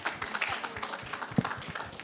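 Workshop attendees clap together in a room: a moderate burst of scattered hand claps, with loosely rhythmic strokes and fairly even loudness throughout.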